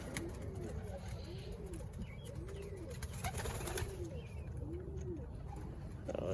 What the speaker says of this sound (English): Here we got the young birds chilling with the old birds.